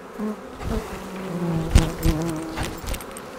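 A swarm of honey bees buzzes close around a beekeeper in a bee suit, a dense, continuous droning hum with individual bees zipping past the ear.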